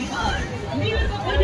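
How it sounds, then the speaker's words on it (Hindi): Dense crowd hubbub at a busy fairground, with many overlapping voices and general commotion forming a steady, loud wash of babble throughout. "बाकी शोर शराबा तो बहुत ज़्यादा हो रहा है"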